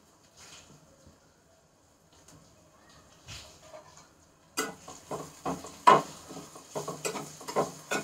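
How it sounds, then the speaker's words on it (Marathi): Chopped onion and tomato drop into hot oil with cinnamon for a chole curry. Quiet low rustling comes first, then the pan turns busy and close, with clattering stirring knocks and a steady sizzle. "कांदा आणि टोमॅटो दोन्ही मी एकत्रच टाकत आहे."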